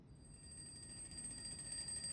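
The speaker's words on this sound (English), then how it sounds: "Another alarm clock starts ringing from somewhere in the room." A ringing alarm clock in the video game Reverse 1999 keeps up a steady, quiet tone with thin high-pitched ringing held over a low background hum throughout.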